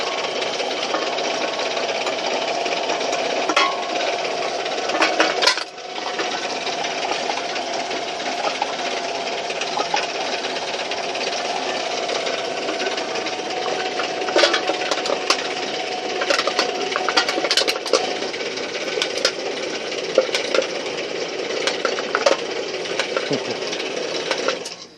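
A homemade RockCan can crusher machine with sides and a back brace runs a test, giving a continuous mechanical clatter and rattle with scattered sharp knocks and crunches from cans being crushed, heard close and steady for the whole stretch.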